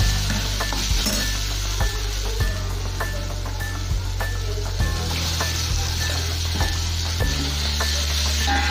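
Mutton pieces hitting hot oily masala sizzle loudly and continuously while a spoon clinks and scrapes against the pot in irregular knocks, close and busy with no talking.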